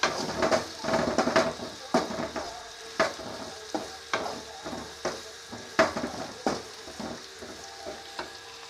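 Vegetables such as drumstick and brinjal sauté in a pan, a low sizzle under repeated sharp clanks and scrapes of a ladle stirring against metal, coming in irregular bursts.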